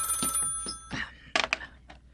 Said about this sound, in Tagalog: May tumatawag sa landline.